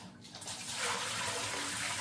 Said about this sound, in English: we're going to drain that water off